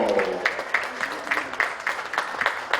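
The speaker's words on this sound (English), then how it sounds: "Give Javier a round of applause." A crowd applauds a polo player at The Villages Polo Club, with scattered, fairly steady claps spread across the whole stretch under light background noise.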